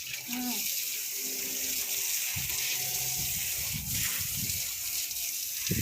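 Steady rushing and splashing of water across a hard terrace floor being washed, continuous throughout, with voices talking briefly over it in light rain.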